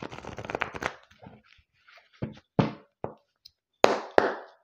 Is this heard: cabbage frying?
no